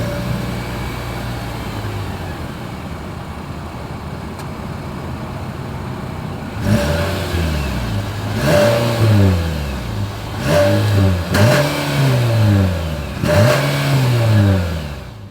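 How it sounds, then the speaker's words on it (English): A 2023 Nissan Sentra compact sedan's exhaust idles steadily, then revs sharply four or five times in quick bursts, each rise and fall of engine pitch clear and close. "Then here is that exhaust clip."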